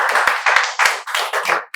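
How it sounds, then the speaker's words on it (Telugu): A classroom of spoken-English students claps in short bursts, several quick rounds of hand claps with brief pauses between them, close and fairly loud. "క్లాప్స్."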